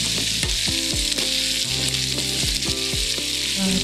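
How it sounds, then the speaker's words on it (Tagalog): Bok choy (pechay) stir-fries in a hot pan with a loud, steady sizzle and frequent scraping knocks of a spatula as the vegetables are tossed. "So, ihalo na po natin ang pichay. At haluin lang ng haluin."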